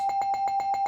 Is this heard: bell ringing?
yes